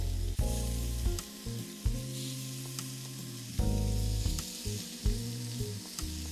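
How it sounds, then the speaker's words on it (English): Shrimp laid into a hot pan to sear for shrimp Creole give a steady, close sizzle that surges as pieces go in, with loud tonal sounds running underneath. "I'm going to put the shrimp right in."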